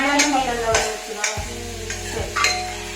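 Mushroom veg biryani made with a Veerah Dindigul biryani mix is sautéed in oil, with a ladle scraping the pan in regular strokes about every half second over a continuous sizzle, close and fairly loud. No talking.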